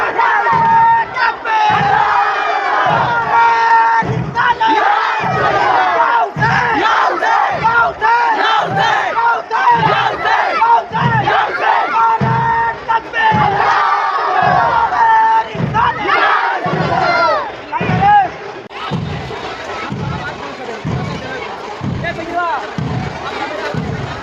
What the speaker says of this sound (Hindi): जुलूस में गर्दा उड़ाने वाली एक गैंग यहाँ पर भी मौजूद है, जो आप देख सकते हैं काफ़ी ज़बरदस्त अंदाज में नारा लगाते हुए